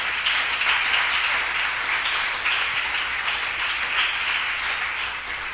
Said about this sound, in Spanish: Y tu pueblo te da un fuerte aplauso